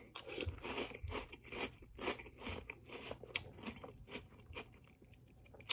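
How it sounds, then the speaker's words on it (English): Someone eats Twinkles cereal up close, with repeated crisp crunches and chewing bites in a steady rhythm, fairly quiet and with no talk. "let's take a bite of Twinkles cereal."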